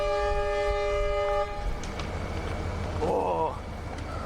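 A train at a railway market in Honghe, Yunnan, sounds a long steady horn, then rumbles on nearby with clanking and a brief squeal. Voices sound faintly in the background.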